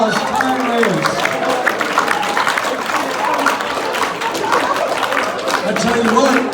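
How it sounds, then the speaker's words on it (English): Hypnotist show audience at an after-prom event bursting into loud, sustained applause and cheering for two volunteer racers who finished in a tie, with crowd chatter throughout. "Let's give our racers a big round of applause"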